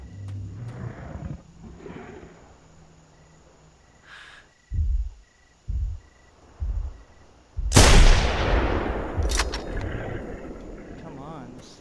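A single sharp rifle shot cracks out at a T-Rex in the hunting game theHunter: Primal, loud and close with a long rumbling tail, after a few dull thuds and soft ambient game noise.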